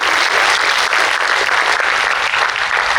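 An audience at a welcome ceremony for Rajasthan's topper students and sub-inspector aspirants applauds, a loud, dense, steady wash of clapping filling the whole stretch without a break.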